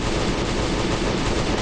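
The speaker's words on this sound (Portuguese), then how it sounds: "Aí, aí, explosão, explosão." A loud explosion in the zombie survival video game Last Day On Earth, a dense, continuous roaring blast that fills the whole short stretch without pause.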